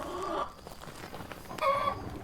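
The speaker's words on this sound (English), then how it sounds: "There's chickens here." Chickens cluck in a farmhouse chicken coop in the video game Phasmophobia, with two louder bursts of clucking at the start and near the end and softer fowl chatter between them, heard alone with no talk.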